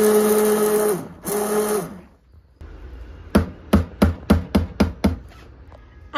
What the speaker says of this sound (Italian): frulliamo bene il composto